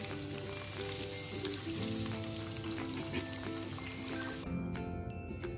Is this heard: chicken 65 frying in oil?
yes